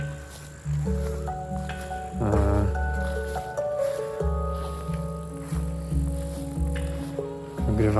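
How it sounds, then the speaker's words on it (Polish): Warm, sustained metallic tones from a handpan ring out and overlap, with soft struck notes blooming over a steady resonant hum. "Jeszcze w Starej Morawie na do widzenia można wyobrazić sobie, jak słychać w tle dźwięk handpanów"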